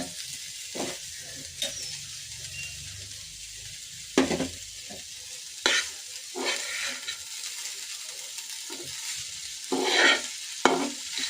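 Beans and potatoes with fried chilli and onion frying in a pan, a soft steady sizzle broken by occasional scrapes and clinks of a spoon stirring slowly, close with no talk.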